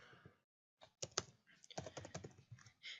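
Close, quiet typing on a computer keyboard, a quick irregular run of key clicks after a brief trailing voice, entering a date into a form.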